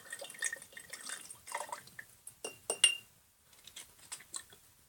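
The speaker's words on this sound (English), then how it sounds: "You want to pour it into your jar." Vodka trickles and drips into a glass jar, with small glassy clinks and splashes in uneven bursts, fairly close and quiet, no voices.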